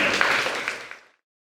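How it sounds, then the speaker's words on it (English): A small audience at an African art talk claps for a band, a short patter of hands that is fairly faint and fades out within about a second. "let's give them an applause"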